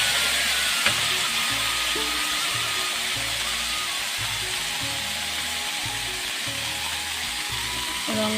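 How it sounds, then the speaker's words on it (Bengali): Pointed gourd (potol) frying in a pan of oil, a steady broadband sizzle running throughout at moderate level, with low rhythmic background hum and faint utensil clinks. "এইভাবে আবার পটলটাকে ভেজে নেব।"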